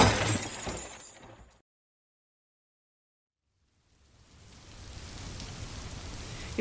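Heavy nighttime downpour sound effect with a sharp crash and breaking-glass burst, then a silent pause of two seconds before steady rain returns, building gradually.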